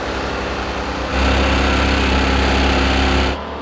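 BMW and Porsche engines drained of oil are held at full throttle against a rev limiter: a loud, steady mechanical roar that swells briefly, then drops back slightly near the end.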